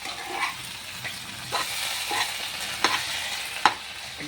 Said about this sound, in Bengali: এই জন্য গ্যাসটা একটু কম করে আর ভাজা ভাজা করছি